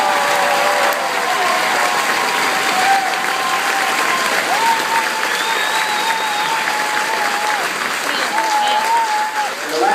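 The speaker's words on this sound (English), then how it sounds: "a round of applause for these patriots and the cadre that put them out there on the field today" A crowd at a graduation ceremony for military graduates claps steadily, filling the whole stretch with sustained, fairly loud applause, and a few whistles or cheers rise above it.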